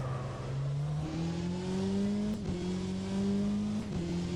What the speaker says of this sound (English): Oh, the gear shift sound is so satisfying.